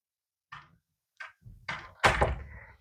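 Repaired door swinging shut after being refitted on its hinges, a sequence of four distinct thunks and knocks building to a firm final latch catch, close and clear in a quiet room.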